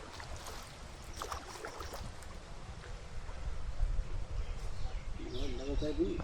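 A plastic boat glides over water, with a steady wash and lapping that grows a little louder partway through, and light bird chirps scattered over it.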